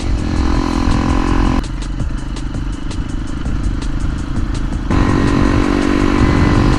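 A Hero Impulse dirt bike engine drones loudly and steadily while riding off-road, with the tone dipping in the middle stretch before returning to a fuller roar, alongside rattling clatter.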